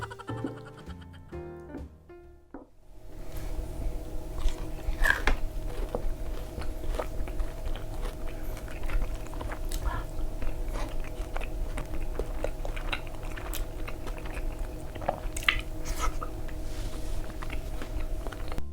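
Crunchy chicharon pork rinds being bitten and chewed up close during a Filipino mukbang, a loud run of crisp crackling crunches that starts after a quiet lead-in and continues steadily.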